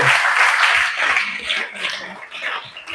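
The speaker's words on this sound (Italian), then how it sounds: "Facciamogli un grande applauso" Applause from the audience at an awards ceremony, a dense wash of clapping that is strongest at the start and gradually thins and softens across three seconds.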